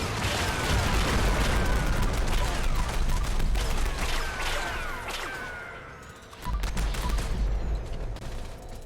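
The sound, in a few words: gunfire in video game Fallout 76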